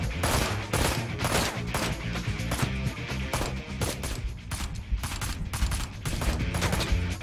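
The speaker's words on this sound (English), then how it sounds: "That was a lot of shots that one guy was taking." Heavy gunfire in a shooter video game, dense overlapping shots and bursts firing continuously and loudly throughout, with no one speaking.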